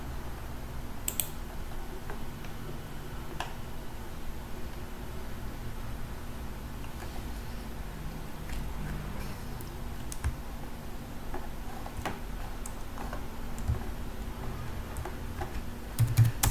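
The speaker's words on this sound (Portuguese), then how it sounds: "depois digito make para compilar" Someone types a make command on a computer keyboard in a Linux terminal on Kubuntu 18.04: sparse, soft key clicks and taps over a faint, steady hiss, quiet and without speech.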